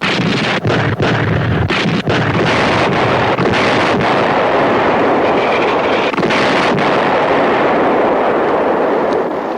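Artillery barrage in the WWII TV series Combat!, a loud, continuous roaring rumble of shelling with scattered sharper blasts rising out of it, heard alone without talk.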